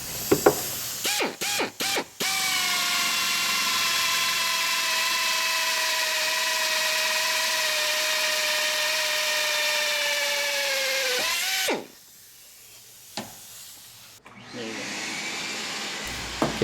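A power drill bores out holes for TeraFlex rock sliders, a steady loud whine holding for about nine seconds and slowing at the end, followed by a few shorter bursts.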